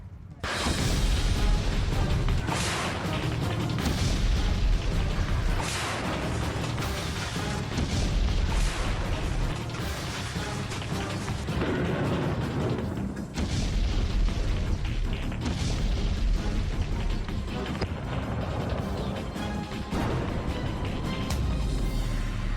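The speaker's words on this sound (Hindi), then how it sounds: "बमबारी और गोलेबारी, मिसाइल, रॉकेट यहां पर दागे जा रहे हैं" Bombing and shelling with missiles and rockets being fired in a war zone: a dense, continuous roar of heavy booms and crashing blasts, loud and sustained throughout with no clear pauses.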